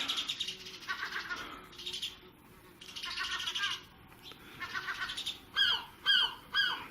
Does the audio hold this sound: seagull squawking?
yes